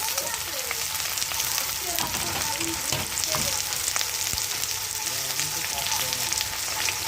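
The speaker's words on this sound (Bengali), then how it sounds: "এতে আবার ভেজে নেওয়া হবে গাজর টমেটো আর একটা আলু আর বিন" Carrot, tomato, potato and beans sizzling in a pan with whole cumin, a steady crackling fry with occasional spatula stirs and scrapes, close and continuous.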